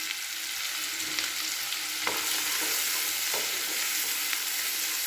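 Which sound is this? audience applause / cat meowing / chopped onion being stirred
chopped onion being stirred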